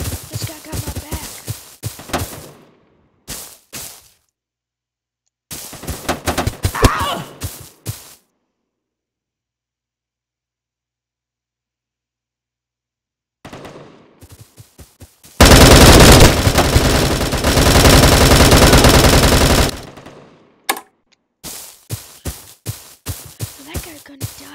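Bursts of automatic gunfire and single shots from the Bullet Force video game come in loud, clipped volleys split by silent gaps, with one long sustained stretch of shooting near the end.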